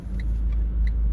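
A car passes at a road junction, heard as a low, steady engine rumble close by from inside a stopped vehicle, with faint ticking from an indicator over it.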